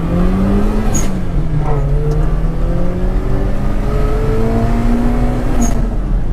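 A manual-transmission pickup truck engine drones close by, its pitch rising and falling as it shifts gears and accelerates, with a constant rumble and a few brief high squeaks.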